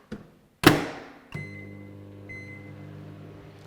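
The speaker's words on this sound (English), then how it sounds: "so we just pop that back in the microwave." A microwave oven heating butter and coffee: a sharp thunk of the door closing, then a beep and a steady low hum as it starts running, close and quiet.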